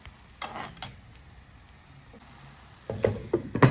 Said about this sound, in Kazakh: Және барлығын жақсылап араластырып, баяу отта еттің сөлі тартылғанша пісіреміз.